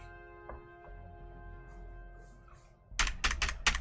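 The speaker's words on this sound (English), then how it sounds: "I'm sorry if you hear every little click of my bloody keyboard." A computer keyboard: a quiet room hum with a few faint taps, then a sudden burst of rapid, close, loud key clicks during typing near the end.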